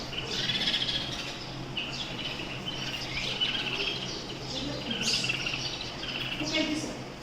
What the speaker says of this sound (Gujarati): હવે આ તો બહુ ચીંચી ચીંચી થાય છે